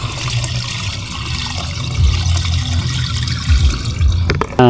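Water gushes steadily into a 16-liter knapsack sprayer on a dwarf coconut farm, a constant rushing pour with a few louder splashes and clunks toward the end.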